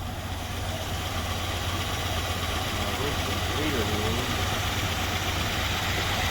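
A steady, low engine hum from a 1964 Dodge 440 sedan idling continuously with a constant rumble and faint mechanical vibration, and a voice murmurs briefly in the background.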